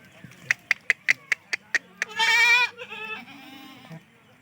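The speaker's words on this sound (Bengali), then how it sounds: "ভালো বড় কাঠের ছাগল এটা" On a goat farm, a goat gives a rapid series of short, sharp bleats, then one longer, wavering bleat and a lower trailing call, all close and loud.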